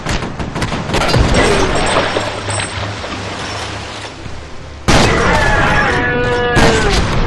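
A grenade explosion in the video game F.E.A.R.: a loud, rumbling blast with crashing debris and gunfire around it, followed by a sudden burst of renewed combat noise.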